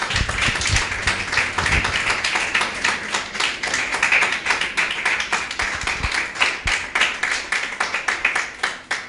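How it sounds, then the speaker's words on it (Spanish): A church congregation applauds, with a dense, continuous clapping that stays close and loud, thinning and turning more uneven near the end, and no voices over it. "¿Qué tal si le damos un aplauso al Señor?"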